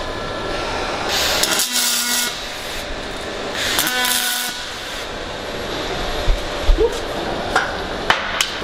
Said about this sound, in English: I'm going to tack the top fast.